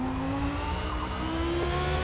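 A Porsche race car in Forza Motorsport accelerates flat out through first gear, its engine pitch climbing in a steady whine under a low rumble for a brief moment, with no talk.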